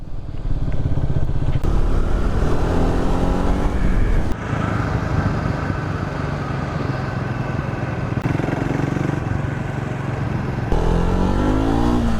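A Triumph Speed 400 motorcycle engine pulls hard and loud, its pitch climbing steadily through gear changes with brief dips between shifts, close and continuous.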